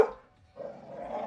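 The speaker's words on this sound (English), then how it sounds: "I'm sorry, my dogs get real antsy." Pet dogs bark and growl indoors, with one sharp bark at the start followed by a lower, drawn-out growl, fairly faint and with no talk over it.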